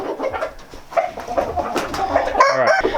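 A blue breeding rooster crows in its pen among other birds clucking and calling, the crow loud and close over a busy background of fowl sounds.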